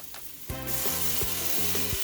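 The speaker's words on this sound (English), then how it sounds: "Now you can add your beef," Minced beef hits a hot pan for pilau rice and erupts into a loud, bright sizzle that stays strong and steady, with rhythmic stirring clanks beneath it.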